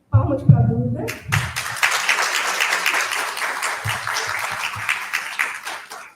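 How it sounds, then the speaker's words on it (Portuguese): An audience at a round-table session at an academic congress breaks into sustained applause after a brief voice, clapping holding steady for several seconds with some thumps mixed in. "palmas para a Duda"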